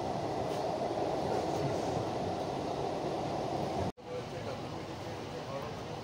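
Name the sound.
Kolkata metro train running under the Ganga river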